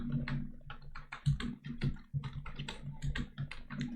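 A password is typed on a computer keyboard, a close, quick patter of key clicks in irregular bursts with brief pauses, over a faint steady hum.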